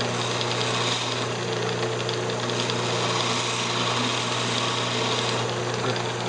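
Cutting a tenon on a cocobolo box, a wood lathe runs with a constant motor drone and steady tool scraping, close and even in level throughout.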